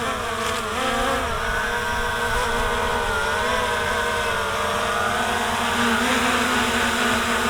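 Hubsan Zino 2 drone coming in to land with its motors running, a loud, steady insect-like buzzing whine that shifts slightly in pitch, close and continuous.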